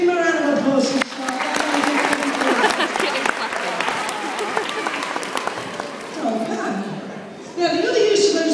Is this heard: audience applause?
yes